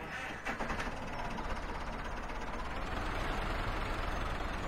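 Renault 421 tractor engine idling in Farming Simulator 17, a steady, continuous low rumble held at even loudness throughout with no talk over it.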